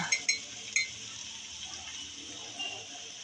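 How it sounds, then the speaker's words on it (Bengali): Ginger garlic paste frying for biryani gives a soft, low sizzle, opened by a few sharp clinks of a utensil against the pot, then gentle stirring scrapes. "আদা রসুনটাকে একটু ভেজে নিচ্ছি যেন কাঁচা গন্ধটা না থাকে"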